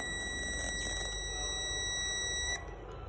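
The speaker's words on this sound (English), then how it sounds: "the continuity is a continuous beep" A Fluke 87 V digital multimeter gives a steady, unbroken high continuity beep while testing a fuse, holding for about two and a half seconds before cutting off, close and clear over a faint hum.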